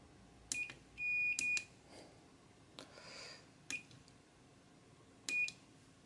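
A soldered LED clock kit sounds its alarm, a few short, faint electronic beeps spaced irregularly in a quiet room with soft handling noises between them.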